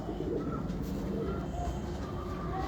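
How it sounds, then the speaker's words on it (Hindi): Pigeons belonging to a fancier coo softly in a steady low murmur, with faint chirps and background noise throughout. "ये जी अब्दुल्ला खान साहब के कबूतर आपको दिखा रहे हैं"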